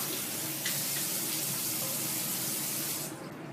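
Water runs from a tap as a face is rinsed after skincare cleansing. The gush is steady and close, splashes briefly, then fades as the flow stops near the end.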